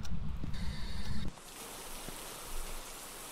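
Steady hiss of falling rain in the video game map Tanglewood, louder at first with a low rumble that cuts off, then a softer, even patter continuing alone.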